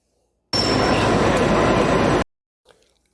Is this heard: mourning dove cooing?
no